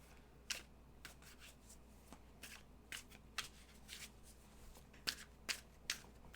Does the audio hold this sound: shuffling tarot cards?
yes